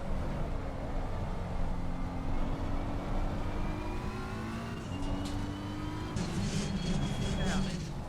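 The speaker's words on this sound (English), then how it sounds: "It does sound like a V8 engine chewing bolts." A V8 race car engine in the Assetto Corsa Competizione racing game revs and climbs through gears, with rising whines and shift steps, heard faintly beneath people talking.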